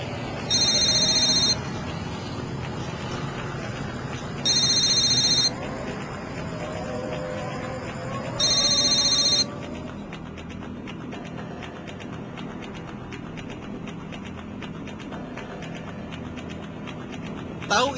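A phone rings unanswered, three shrill bursts about four seconds apart, each around a second long, over low background noise, then falls silent.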